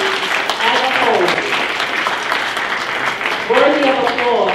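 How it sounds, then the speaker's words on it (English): Steady applause fills a city council meeting in Long Beach, New York, marking a long-serving city employee's 37 years of service, with voices talking over the clapping throughout. "Worthy of applause."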